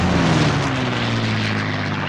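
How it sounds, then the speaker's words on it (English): Propeller warplanes droning overhead in a World War II battle scene, a loud, steady engine roar with slowly falling pitch as they pass, filling the whole clip with no voices over it. "we have planes now"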